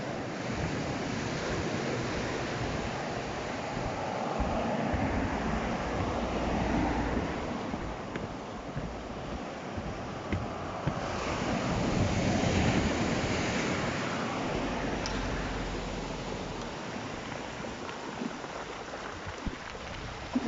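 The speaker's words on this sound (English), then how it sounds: "Hear all the pebbles washing over each other as the waves come in and go out." Waves roll in and wash back over a pebble beach at Sandsend, making a continuous rushing wash with swelling surges under steady wind noise, and no one speaking.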